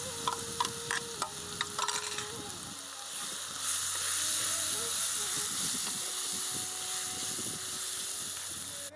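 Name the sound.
chopped onion sizzling while roasting in a pan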